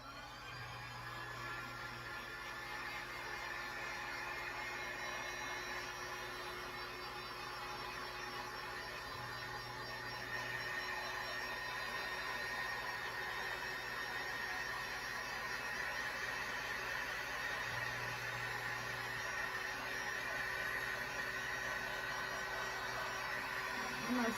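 A heat tool blows hot air steadily over a velvet-textured Christmas cardinal craft, a loud, continuous whooshing hum that never lets up, with no voices over it.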